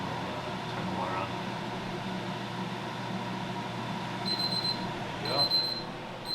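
A homebrewing timer alarm beeps in short, repeated high-pitched bursts, faint under steady background hiss, coming in two clusters near the end while someone speaks briefly.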